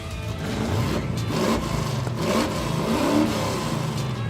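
A 1957 Chevrolet Bel Air revs hard while spinning donuts on wet grass, its mid-pitched engine surging and falling in repeated waves, loud and close with a steady exhaust roar throughout.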